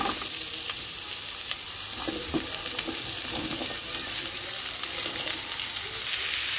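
Radish and mixed vegetables frying in a pan, a steady bright sizzle throughout, with occasional scrapes and clinks of stirring near the start, close and continuous with no voices.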